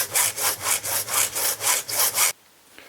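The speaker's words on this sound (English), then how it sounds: "Now we can cut the part using a hand saw or an electric saw, whatever you prefer. I'm going to use a hand saw." A hand saw cuts through a piece of plastic drainage pipe in about nine rhythmic back-and-forth strokes, close and loud, then stops abruptly.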